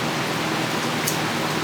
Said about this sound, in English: It's still raining on me.